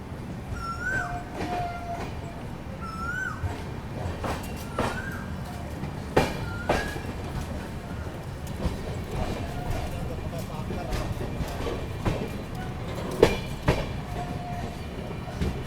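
Passenger train on the Jammu Mail pulling out of Vijaypur Jammu station, a low steady rumble with periodic wheel clicks and rattles; short chirping tones repeat over it, and no one speaks.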